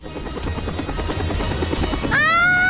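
A helicopter flies with steady, loud rotor chop over a rumbling low hum, joined near the end by a sharp rising whinny-like tone in a dramatic movie scene.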